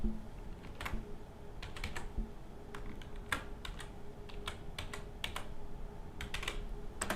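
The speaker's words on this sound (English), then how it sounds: "And password, we're just going to type in the password" Password being typed on a computer keyboard at a Linux terminal: scattered clusters of sharp key clicks with irregular pauses, close and fairly quiet over a steady low room hum, no voices.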